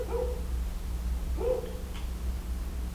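Dogs bark outside at something, two muffled, fairly distant barks about a second and a half apart over a constant low hum indoors.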